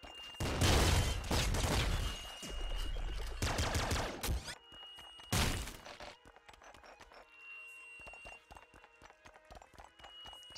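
Enemies firing guns in Nuclear Throne, rapid bursts of loud game gunfire and impacts at first, then sparser sharp shots and clicks over quieter game sounds, with no talking.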